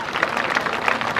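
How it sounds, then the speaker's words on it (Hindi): A hall audience claps for student dance performers, a brief, dense burst of many hands applauding at close range, steady and fairly loud without speech over it. "उनके लिए एक जोरदार तालियां बजाइए"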